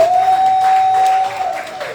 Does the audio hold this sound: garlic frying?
no